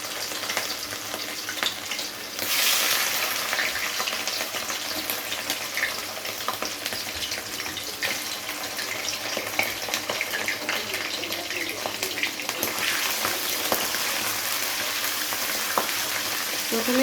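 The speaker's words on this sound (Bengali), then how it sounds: "প্রথমে তেলটাকে হালকা নাড়াচাড়া করে তেলের সঙ্গে ভেজে নিতে হবে" Small pieces of mutton fat frying in cooking oil while being stirred: a loud, continuous crackling sizzle with bursts of spattering and scraping stirs, close and steady for the whole stretch.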